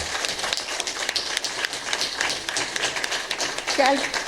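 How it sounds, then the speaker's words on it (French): An audience in a hall in Cotonou applauds a person, steady crowd clapping that swells and continues throughout, fairly close, with voices mixed in beneath the clapping. "Aidez-moi, s'il vous plaît, à l'applaudir"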